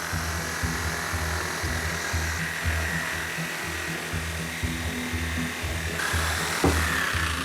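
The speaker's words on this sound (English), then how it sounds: "drill out some old bricks to cut a channel into the original wall" A power drill grinds steadily into old brick and lime mortar in a 160-year-old wall, a continuous whirring buzz pulsing slightly as pressure changes, close by and without speech.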